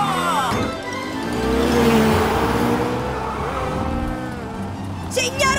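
An animated cartoon car races along with its accelerator stuck, the engine roaring and whining continuously under excited voices, with a short squeal near the end.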